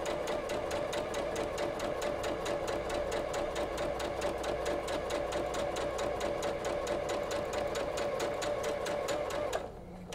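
A sewing machine stitches a quarter-inch quilt seam through fabric, running steadily and loudly for about nine and a half seconds with a fast, even rhythm before it stops abruptly.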